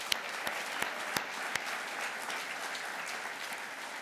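An award ceremony audience applauds for Robin Williams at the Australian Museum Eureka Prizes, a dense steady roar of clapping with a few sharp louder claps near the start.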